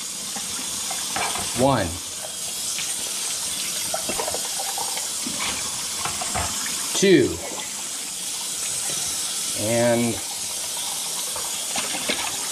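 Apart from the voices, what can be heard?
tap water running while rinsing cups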